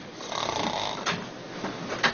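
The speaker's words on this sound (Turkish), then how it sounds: "Uykuda nefes güçlüğü çekiyor ya da horluyorsanız artık bir çaresi var." A person snores in sleep, giving one long rough breath followed by two shorter ones, moderately loud and close.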